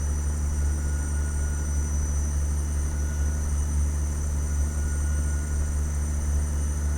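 Peterbilt 379 truck engine in American Truck Simulator, hauling cattle from Dalhart to Albuquerque: a steady, loud low drone that holds throughout with no talk over it.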